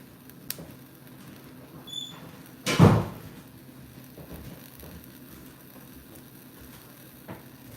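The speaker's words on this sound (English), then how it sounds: "we're gonna maybe shut my bedroom door too," A bedroom door swings shut once with a soft thud, nearby, in an otherwise quiet room.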